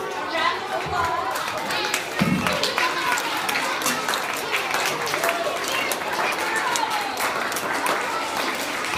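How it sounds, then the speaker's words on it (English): A school audience of children applauds a visiting children's author, loud sustained clapping mixed with excited chatter and voices throughout. "Round of applause"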